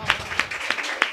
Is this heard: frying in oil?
no